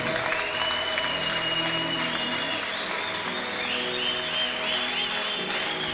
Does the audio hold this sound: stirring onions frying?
no